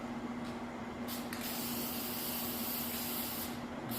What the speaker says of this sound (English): Now we're going to spray the front side of this